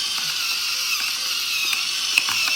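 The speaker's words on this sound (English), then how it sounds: "Now we're gonna push the button and get some peppers." An electric pepper grinder grinds peppercorns in a home kitchen, giving a steady mechanical ratcheting whir that runs continuously and close, with no talking over it.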